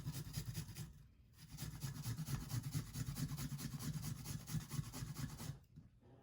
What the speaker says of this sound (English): I'm going to grind or grate the garlic.